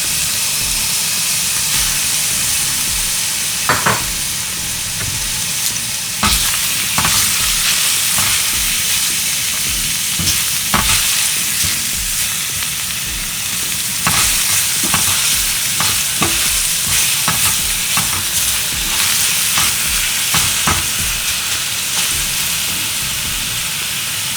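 Spinach sizzles in a frying pan next to pan-fried pesto salmon while it is stirred. A constant hiss runs underneath, broken by repeated scraping strokes, and no one speaks.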